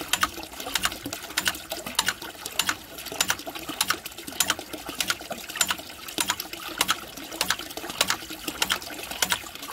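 A check valve in a sewer discharge line flaps in a steady rapid rhythm of sharp clacks, about two per second, over gurgling, trickling water and airflow, close and clear.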